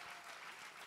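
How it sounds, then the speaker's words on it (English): A church congregation claps together at an Easter service, a steady wash of applause filling the brief moment without pause or talk. "Let's clap for C4C."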